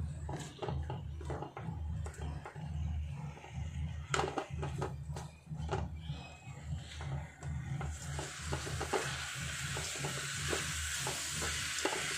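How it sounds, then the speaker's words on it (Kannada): Tomato chutney with salt fries in a pan, a continuous sizzle broken by frequent scraping stirs and clinks, with the hiss growing brighter and denser toward the end. "ಇದು ಚೆನ್ನಾಗಿ ಫ್ರೈ ಆಗಬೇಕು, ಬೆಂದ್ಬಿಟ್ಟು ತುಂಬ ಸಾಫ್ಟ್ ಆಗೋ ತನಕ ಫ್ರೈ ಮಾಡಬೇಕು"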